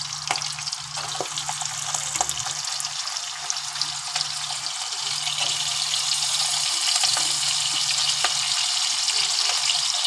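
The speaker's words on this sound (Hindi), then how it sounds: "अब मैं इसमें प्याज डालकर, प्याज भी ऐसे ही लाइट ब्राउन तक इसे मैं पकाऊंगी" Onions fry in oil in a kadhai for kadhai paneer, a steady bright sizzle that holds close and continuous throughout, with no talking.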